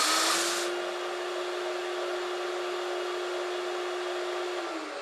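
Twin 18-volt brushless dust extraction vacuum running with a steady, even whine and broadband rush, starting with a brief burst of air noise, then droning constantly before winding down at the end.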